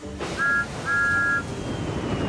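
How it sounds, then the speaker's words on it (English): Thomas the Tank Engine, a steam engine, sounds his whistle in two bright tones, a short toot and then a longer one, heard over a soft background hiss. "with a toot of his whistle"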